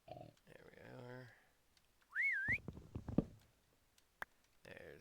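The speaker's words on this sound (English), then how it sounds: "I also need to figure out where this whistling comes from." A short, wavering high whistle in the Minecraft video game sounds once, close and clear, amid soft clicks; a person talks briefly before it.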